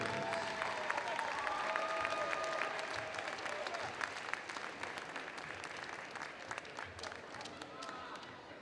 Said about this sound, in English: A big round of applause for all the senior prom members